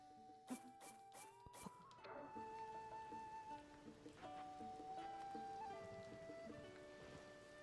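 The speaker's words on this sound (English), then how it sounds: "Oh, it's raining." Rain in the video game Zelda Tears of the Kingdom, a soft patter of drops under a tonal game melody, with a few sharp clicks at the start.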